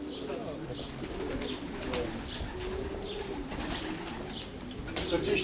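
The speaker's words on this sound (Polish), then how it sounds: "No i czekamy na następne gołębie" Racing pigeons arriving back at the loft during a race return, cooing steadily in the background while people talk nearby.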